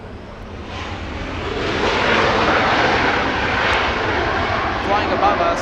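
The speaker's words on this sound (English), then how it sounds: "Little SkyWest T175 flying in from San Francisco" A SkyWest E175 regional jet arriving from San Francisco passes overhead at Los Angeles International Airport, a loud broadband engine roar that builds and holds steady, with voices talking over it.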